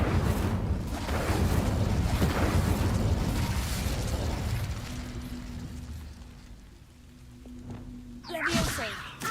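An Incendio fire spell cast in Hogwarts Legacy: a long, roaring whoosh of flame that slowly fades with a faint ringing tone, then a short sharp burst near the end.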